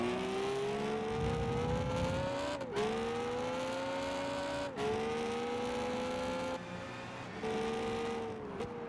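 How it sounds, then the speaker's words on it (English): Race cars in the Gran Turismo 5 video game drive continuously, their engine notes rising steadily through the gears with brief drops at each shift, loud and close throughout with no talking. "I think I hear the cars on the, like, off to the right."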